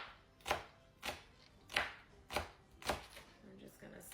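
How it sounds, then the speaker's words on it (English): A knife slices through large green onions (scallions) on a cutting board, five or six crisp evenly spaced cuts, quiet and close. "Now let's slice up our green onion, or scallion, or whatever you like to call them."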